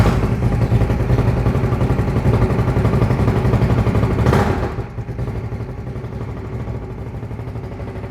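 A Moto Guzzi California 1400 with its 90-degree 1400 cc V-twin idles loud and close, a deep steady throb that drops slightly in intensity partway through and keeps running without speech.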